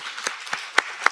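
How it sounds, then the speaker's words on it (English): Sparse clapping from a conference audience for panelists, a handful of distinct claps spaced out over about a second, moderately close and without talk. "I would like to ask everyone to give a round of applause to all the panelists"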